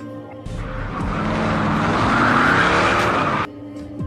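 A car from the film Faster speeds away with a loud, rising engine roar and squealing tires that swell for about three seconds before cutting off abruptly.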